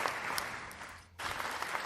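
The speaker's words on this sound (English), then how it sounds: "Well, claps everywhere." Studio audience at a live comedy radio show clapping steadily, a dense wash of applause that briefly drops away near the middle before surging back just as loudly.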